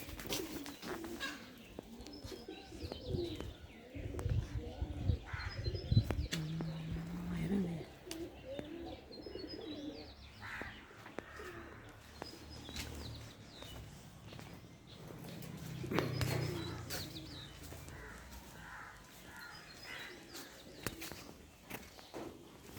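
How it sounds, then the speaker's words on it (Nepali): Birds call and coo around a house in Nepal, pigeon- or dove-like coos mixed with chirps, with footsteps and faint voices in the background. "यस्तो चरा त मलाई आजसम्म देखाएको थिएन यो चाहिँ नयाँ हो"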